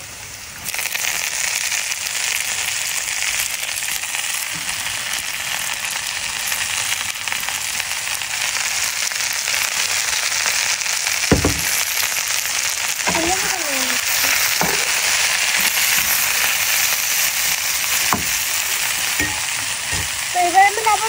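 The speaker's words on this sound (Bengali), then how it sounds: "পেঁয়াজ মরিচ ভাজা হয়ে গেছে, তো এবার ধনেপাতা দিয়ে দিচ্ছি।" Coriander leaves fry with onion and chili in a hot pan, a constant loud sizzling hiss with occasional sharp spatula scrapes and clacks of stirring, and no talking.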